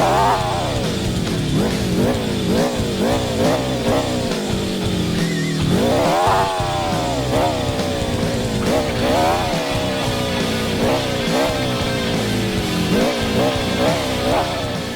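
Simulated monster truck engine in the Rigs of Rods racing game, a loud continuous growl that revs up and down in repeated surges as the truck slides through turns and over jumps, with a commentator's voice faintly mixed in.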